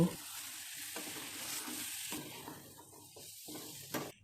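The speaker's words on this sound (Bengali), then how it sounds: "আরও একটু রোস্টের মশলা ও সয়া সস দিয়ে ভালো করে মিশিয়ে কষিয়ে নিয়ে লাল করে নেব" Chicken fries in a pan with roast masala and soy sauce while being stirred, a steady close sizzle broken by repeated scraping strokes of the spoon and no talk.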